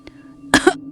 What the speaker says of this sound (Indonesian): samar terdengar suara orang batuk. Berat, panjang,